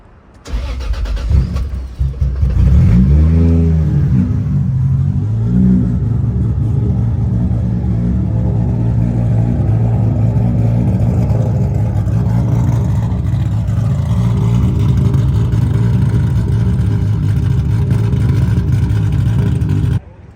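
A twin-turbo Mustang engine starts with a crank and brief revs, then settles into a steady, loud, rumbling idle that runs on until it cuts off.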